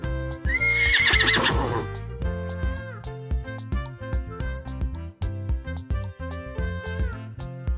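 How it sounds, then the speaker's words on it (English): A horse gives a loud, close whinny near the start, a rising then falling neigh, before background music carries on alone. "Horse."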